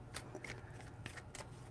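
Tarot cards are shuffled in a few quick riffling bursts, soft and close, with faint background hum between them.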